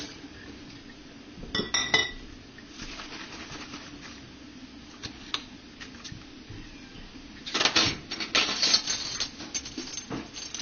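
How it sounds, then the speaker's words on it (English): Glass quart canning jars clink and knock near the microphone while tomatoes are spooned in, with scattered sharp clinks and two busier clusters of clattering and handling amid quiet kitchen background. "And now we're going to fill the tomatoes into the jars."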